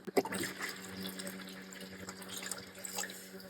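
Bleach poured into a container already holding water for a hot-water and bleach seed treatment, a close running-liquid splash with small drips and clinks, steady and fairly quiet.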